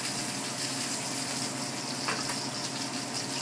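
A sous vide rack of lamb searing in a hot pan on its second side gives a steady, close frying sizzle, an even crackling hiss with a few brief pops and no voices.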